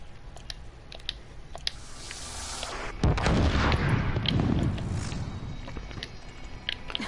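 A blast bomb detonating in Horizon Zero Dawn, a sudden loud burst followed by a rumbling, debris-filled tail that fades over a few seconds, with scattered game sounds and faint ticks around it.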